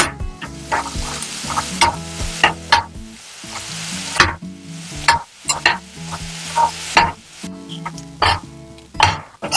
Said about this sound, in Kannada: ಮತ್ತೆ ಕೊತ್ತಂಬರಿ ಸೊಪ್ಪು, ಇಷ್ಟೆಲ್ಲ ಹಾಕಿ ಸ್ವಲ್ಪ ಫ್ರೈ ಮಾಡಿಕೊಳ್ಬೇಕು